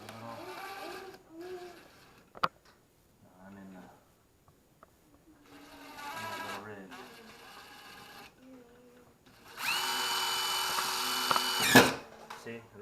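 A power drill bores a hole through drywall in a short loud whining burst, following stretches of quieter handling noises and brief mechanical clicks.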